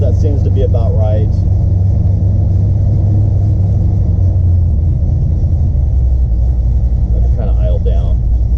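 A 1972 Chevrolet C10 pickup's engine idles steadily as a loud, continuous low rumble throughout, with brief speech heard over it near the start and end.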